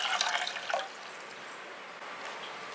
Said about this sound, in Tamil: இப்போ தண்ணி வந்து 1/2 லிட்டர் நம்ம பாத்திரத்தில் ஊற்றிக்கலாம்.